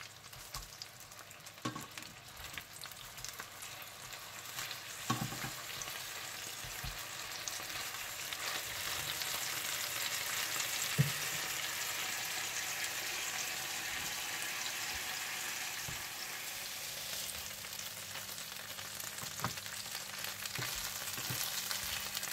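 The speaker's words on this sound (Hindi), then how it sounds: "इसी तरह से आप सारे पैटीज फ्राई कर लीजिएगा" Beef burger patties frying in a pan give a soft, continuous sizzle that swells slightly over time, with a few faint clicks and taps scattered throughout.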